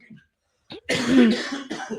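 A short throat noise, then a harsh, forceful cough with a rough, raspy tail, close by and alone.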